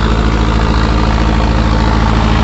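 Tractor of about 1700–1750 rpm driving a multicrop wheat thresher during harvest, a loud, steady engine and machine roar with a low pulsing throb throughout.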